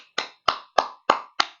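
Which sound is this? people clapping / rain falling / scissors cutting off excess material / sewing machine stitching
people clapping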